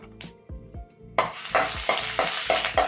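Chopped ginger hitting hot oil in a pan: a few dull knocks come first, then a loud, steady sizzle breaks out with repeated spatula scrapes roughly every quarter second, close up and with no talking.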